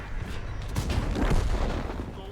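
Heavy cannon fire booms from a Leopard PT A tank in a video game, deep rumbling blasts that roll into a long echoing tail.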